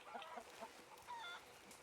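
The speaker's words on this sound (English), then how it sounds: "I can study a chicken." A Leghorn chicken clucks in Red Dead Redemption 2 at a ranch camp, giving a few short, soft clucks with faint chirps over a steady ambient background.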